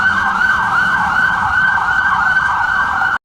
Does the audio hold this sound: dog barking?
no